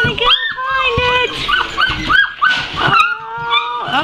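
Six-week-old puppies from a litter let out a busy run of high, squeaky yips and whimpers, closely overlapping and close by, with short pauses between bursts.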